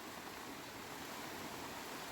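Heavy rain pours outdoors at a summer dacha in Visaginas, Lithuania, a dense, steady hiss of water with no breaks or voices.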